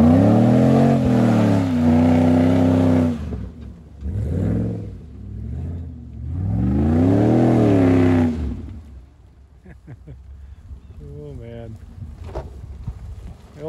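A $1000 Dodge 2X4 truck engine revs while mudding, rising and falling in several loud surges with pauses between, followed by quieter idling and faint sounds near the end.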